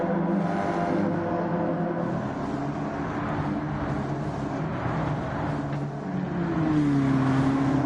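Steady roar of several stock car engines in Gran Turismo 7 droning together, with a rising whine of one car accelerating near the end, continuous and loud.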